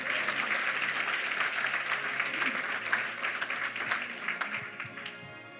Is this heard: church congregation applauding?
yes